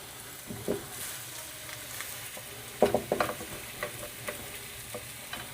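Bacon frying in a hot pan for a burger bacon cheese roll: quiet background sizzle broken by a few sharp crackles and spits, the busiest burst midway, no talking.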